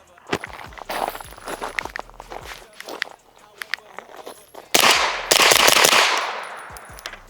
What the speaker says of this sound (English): see how she shoots suppressed?